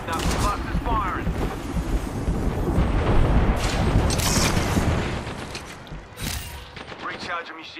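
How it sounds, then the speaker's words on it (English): Knuckle Cluster weapon in Apex Legends, firing a burst of rapid crackling blasts and bangs that swell to a dense peak midway, then thin into scattered pops, with a voice speaking over part of it. "Stand back, knuckle bust is firing."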